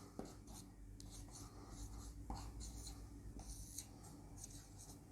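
Chalk or marker strokes on a classroom board during a Hindi grammar lesson: repeated short scratchy bursts, quiet and fairly close, with soft pauses between strokes and no clear talking.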